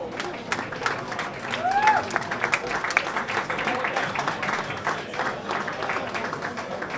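Audience applause at the Mega Muzika music awards ceremony in Croatia, steady clapping from a crowd with a brief whistle, moderately loud and continuous.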